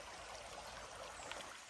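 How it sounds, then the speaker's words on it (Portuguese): A small trickle of spring water runs steadily outdoors, a soft continuous wash of flowing water close by with no talking. "Olha um pouquinho d'água só que tá escorrendo aí."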